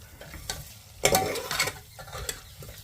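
Mutton frying and being stirred in a pot, with a bright sizzle swelling as the spoon scrapes through, in several irregular bursts over a steady hiss, close and fairly loud.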